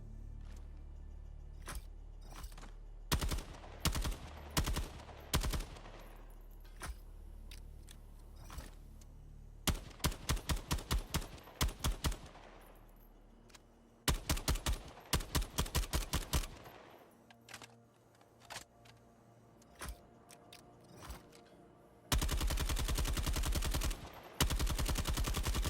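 Automatic rifle fire in Helldivers 2 comes in bursts of rapid shots, some short and some sustained, broken by pauses and a few single cracks, loud and crisp with no talking.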